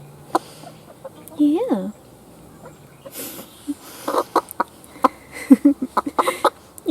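A backyard pet hen gives soft clucks and a rising squawk close by, then scattered short clucks. A person speaks briefly nearby in a quiet setting.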